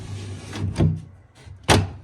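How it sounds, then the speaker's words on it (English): Undermount soft-close drawer on a DIY floating cabinet being pushed in, giving two distinct clicks, one soft and one sharper near the end, close up with no talking. "Nothing like a nice quality undermount soft close drawer"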